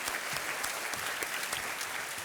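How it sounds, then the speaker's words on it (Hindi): Sustained applause from a game show studio audience, dense clapping throughout at a steady level with no voices rising above it. "तालियां बज जाएं"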